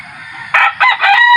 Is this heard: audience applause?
no